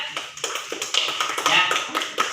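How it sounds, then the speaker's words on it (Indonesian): Classroom of students clapping for the third presentation group, a dense run of sharp, close hand claps in an uneven rhythm lasting a couple of seconds, with no talking. "Kasih tepuk tangan kelompok 3"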